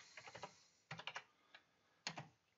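Bursts of typing on a computer keyboard, entering a search filter: three quick clusters of close, crisp keystrokes separated by brief pauses, with one isolated tap between them and no talking.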